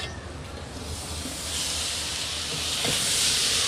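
A threshing machine running outdoors close by during harvest gives a steady, dense, hissing roar that builds slightly louder and fills the whole stretch without a break.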